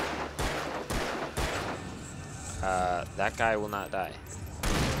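Several sharp gunshots crack out early in Alan Wake gameplay, then someone speaks over the game sound and another loud shot lands near the end.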